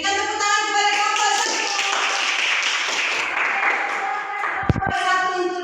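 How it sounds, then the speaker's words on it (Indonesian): Applause from a classroom full of people, steady clapping for a student group sustained for several seconds with some voices mixed in. "Berikan tepuk tangan kepada kelompok"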